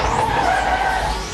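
Le Mans-style prototype race car sliding out of control after a light rub with another car at Petit Le Mans, its tires squealing in a loud, sustained skid with engine roar throughout.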